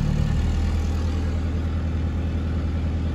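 Narrowboat diesel engine running at raised revs, a steady, close, low rumbling drone that holds even throughout with no talking.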